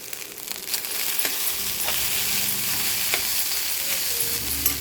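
Rice with a pinch of turmeric frying in a pan for egg rice, a continuous bright sizzle broken by occasional scraping stirs, close and steady with no talking.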